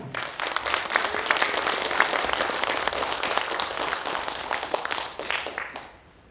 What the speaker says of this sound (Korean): 이원우 회장님 연단에 나오실 때 응원의 힘찬 박수 부탁드리겠습니다